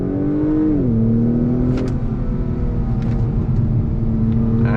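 Acura TLX A-Spec sport sedan (2021, modified) pulling hard on throttle from a slow roll, its engine note loud and steady, pitch dipping at a shift before climbing again, with no talk over it.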